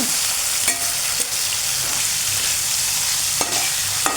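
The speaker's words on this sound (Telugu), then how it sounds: "బాగా ఇలాగ ఆయిల్లో ఫ్రై చేసేసుకున్నాము" Green chillies fry in oil in a steady, loud, close hiss that runs without a break, marked by a few soft knocks from stirring and no talking.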